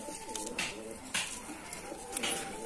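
Rajshahi Giribaj pigeons in a home pigeon farm coo softly and continuously, their low throaty calls overlapping nearby with a few faint chirps and rustles.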